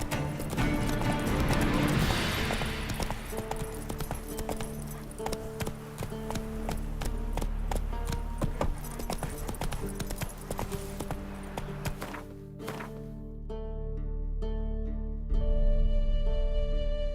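Horse hooves clopping steadily during riding in The Witcher 3, a continuous rhythmic clip-clop under game music, with a brief whinny-like tone and ambient sounds shifting near the end.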